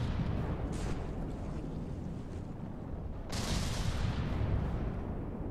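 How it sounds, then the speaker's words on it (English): Ship-mounted guns fire at another ship in the naval combat game From the Depths, a dense rumbling barrage that swells into a loud burst of blasts midway and continues to the end. "I'm shooting the other ship"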